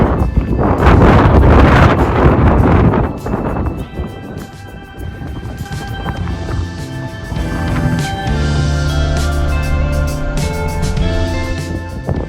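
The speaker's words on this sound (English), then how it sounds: "You cannot believe this wind. It is crazy." Strong wind gusting at Yellowstone buffets the microphone with loud roaring rumble for the first few seconds, then eases into a steadier blow while a low motor hum and clatter continue underneath.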